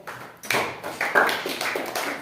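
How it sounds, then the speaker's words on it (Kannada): Children clapping in a classroom, a burst of loud, uneven hand claps close by with no talking over them. "ಎಲ್ಲ ಮಕ್ಕಳು ಜೋರ ಚಪ್ಪಾಳೆ ತರಬೇಕು"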